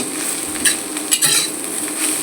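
Cooked greens dropped back into hot oil in a pan, sizzling steadily up close with a few clinks and scrapes of a utensil against the metal, and no talking.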